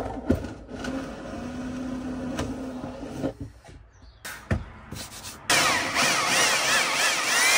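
A power drill bores down through a VW camper van floor, cutting through flooring, plywood, insulation and metal, with whining bursts, pauses and a harsher grinding stretch near the end, close and without talk.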